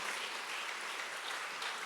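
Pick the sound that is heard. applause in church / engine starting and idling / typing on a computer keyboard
applause in church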